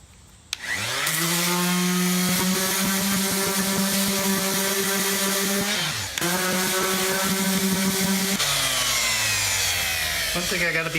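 Power sander with aggressive grit buzzing steadily across the back of a 1970s Soviet Aelita guitar to strip the finish, loud and close, briefly dipping near six seconds and shifting in tone later.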